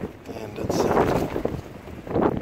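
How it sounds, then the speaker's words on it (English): Strong gusts of wind buffet the microphone in loud, low rumbling bursts outdoors outside a mountain hut, with a couple of brief spoken words underneath. "very windy outside"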